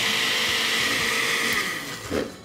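A kitchen blender whirs steadily as it grinds dim sum spices with a splash of water, a loud continuous motor whine that dips and wobbles near the end as the load shifts.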